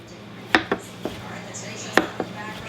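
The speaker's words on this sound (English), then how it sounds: "we're just going to give this eggplant just a rough chop" Knife roughly chopping cooked, still-hot eggplant on a cutting board, a handful of sharp separate thunks spaced irregularly, with two louder hits standing out against quiet room hum.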